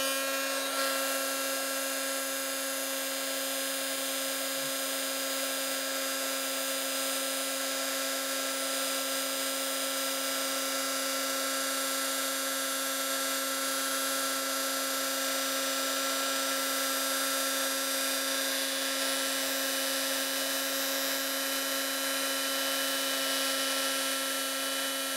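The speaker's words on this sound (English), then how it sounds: "Little heat gun here." Small Stampin' Up! heat gun melting clear embossing powder, a steady high whine with a constant hum, running unbroken and close throughout.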